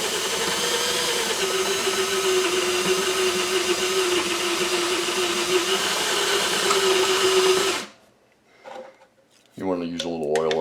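A step drill bit gives a steady, loud grinding whine continuously for about eight seconds with a sustained tone, then cuts off, followed by brief clicks and a short voice.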